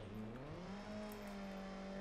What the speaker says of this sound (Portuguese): O Chevetão tá passando